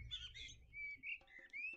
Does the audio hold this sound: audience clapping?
no